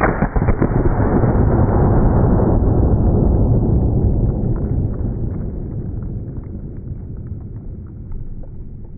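A Shockwave 590 12 gauge pump shotgun fires a mini shell of number 4 buckshot: one loud, heavy blast that rings out in a long, slowly fading rumble, with no voices.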